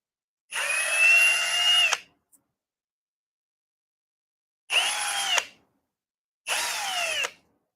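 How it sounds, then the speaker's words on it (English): A power drill whirs in three separate bursts, a longer one first and then two shorter runs, close and clear with silence between. "I can actually drill into those and it doesn't hurt me at all"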